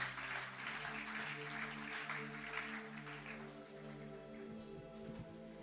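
A church congregation claps together for several seconds during a Sunday service, a soft, steady patter of applause that fades toward the end over a sustained low organ or keyboard chord.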